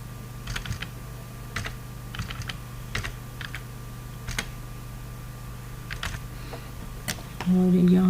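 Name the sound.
typing on a computer keyboard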